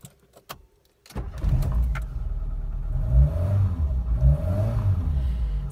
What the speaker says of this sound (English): I'm going to start the car up so you can have a listen